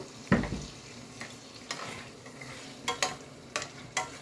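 Eggs are stirred in spice masala with a splash of water in a pan, giving a soft steady sizzle broken by several sharp scrapes and clanks of the spatula against the pan.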